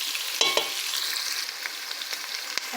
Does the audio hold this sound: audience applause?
no